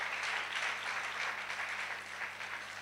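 A church congregation applauding during a Sunday anniversary service, a steady, dense round of clapping from a crowd at moderate distance, sustained throughout without talk.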